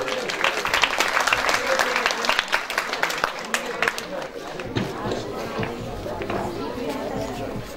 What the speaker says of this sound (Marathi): या ठिकाणी विद्यार्थ्यांनी जोरदार टाळ्या या ठिकाणी वाजवायच्या आहेत.